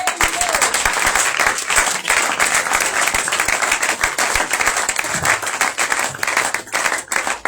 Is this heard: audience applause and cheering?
yes